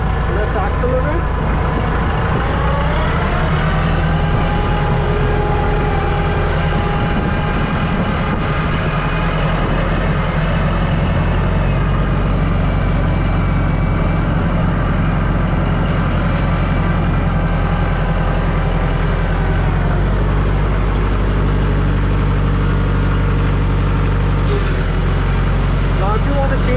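A tractor engine runs loud and close, its steady diesel drone rising slightly as the machine accelerates forward, with someone talking over it.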